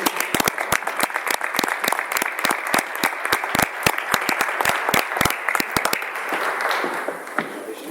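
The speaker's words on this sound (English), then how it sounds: "So how about a nice round of applause for them?" A school board meeting audience gives a round of applause for student award winners, a dense spray of sharp claps close by that thins and fades toward the end.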